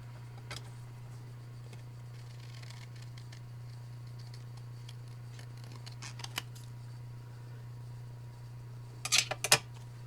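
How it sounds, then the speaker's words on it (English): Scissors trim a paper door tag, a few faint quiet snips and clicks over a steady low hum, with a brief louder cluster of cuts near the end. "We'll have to trim that."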